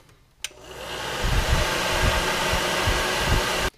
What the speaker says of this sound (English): So we're going to give it about a minute with the hair dryer